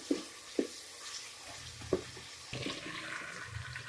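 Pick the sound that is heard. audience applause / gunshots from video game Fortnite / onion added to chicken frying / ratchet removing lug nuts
onion added to chicken frying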